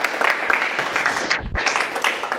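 A room of attendees at a presentation applauds, dense continuous clapping throughout with a brief dip near the end, no voices over it.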